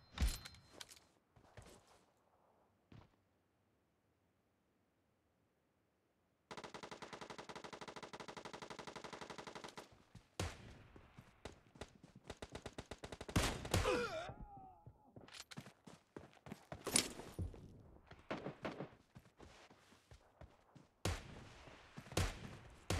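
Gunfire in the mobile battle-royale game PUBG Mobile Lite: a sustained automatic burst followed by scattered single shots and sharp impacts, interspersed with quiet gaps and small game effects.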